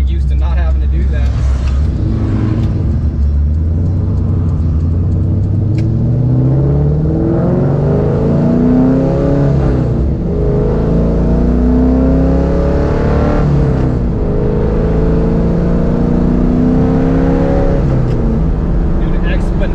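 A V8-swapped Honda engine revs hard on a dyno, loud and close, climbing repeatedly through the rev range in long sweeping pulls that dominate throughout.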